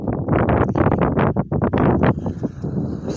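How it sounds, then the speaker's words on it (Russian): Strong spring wind blows outdoors beside a river under a clear sky, buffeting the microphone in loud, rough gusts that surge and drop for a few seconds. "Ветрище, конечно"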